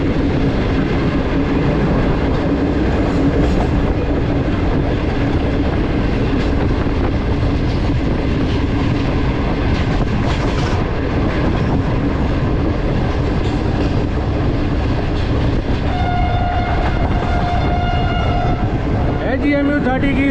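The 41 Up Karakoram Express, led by an AGMU 30 locomotive, rolls loudly through Ring Road railway station with continuous rumbling and clattering wheels, and a sustained horn tone sounds near the end.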